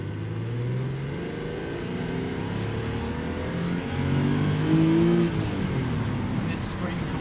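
A Porsche Boxster S engine revs up, its pitch climbing and easing back, a steady motor drone underneath, close and fairly loud.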